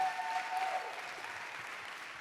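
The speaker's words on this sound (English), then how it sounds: "Round of applause for Jonathan." An audience applauds a speaker walking on stage at a live Ignite Seattle event, a steady hiss of many hands clapping, moderately distant and fairly even, tapering slightly toward the end.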